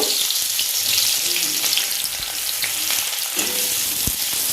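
Chopped onions fry in hot mustard oil for an egg-in-mustard curry, giving a loud, continuous close sizzle with occasional scraping stirs.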